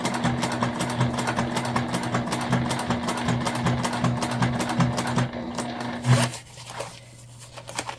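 Sewing machine stitching a sling bag along existing stitch marks, a continuous motor hum with rapid needle rhythm that ends after about six seconds, then quieter handling.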